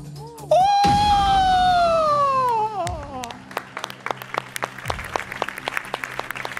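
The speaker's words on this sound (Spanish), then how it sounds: "¡Fuerte el aplauso, señoras y señores!" A game-show studio audience breaks into scattered, brisk clapping that follows a loud descending electronic tone, the claps turning sparse and uneven toward the end.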